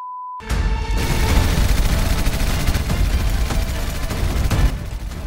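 Rapid gunfire in a video game breaks out after a brief tone and a moment of silence, a dense, loud, continuous barrage of shots.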